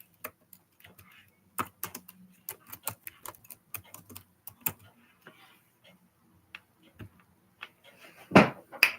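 Scattered keystrokes tap on a computer keyboard at a craft table, quiet and irregular, with a louder clatter of clicks near the end and no talking.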